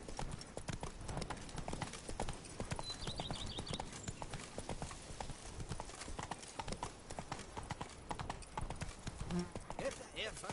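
Roach the horse gallops in Witcher 3, hooves pounding in a fast, continuous rhythm for about ten seconds, close and prominent, with game voices and ambience mixed in.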